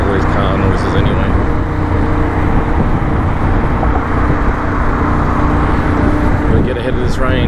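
Road traffic noise from cars and trucks, heard while riding a Ducati Desert X in rain in northern Victoria, forms a loud, continuous broadband roar with passing swells near the start and end.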